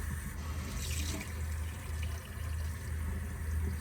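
Cold water runs from a kitchen sink tap into a measuring cup, a close, steady splashing stream with slight fluctuations as it fills.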